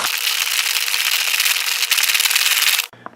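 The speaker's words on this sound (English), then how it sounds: "give it a good long shaking." A steady, hissing rustle of vigorous shaking of a sealed drink pouch from a US military ration continues for about three seconds, then stops abruptly with a light clack.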